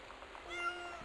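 A person imitates a cat's meow, giving one short, fairly faint, drawn-out mewing call that rises and falls with no other sound around it.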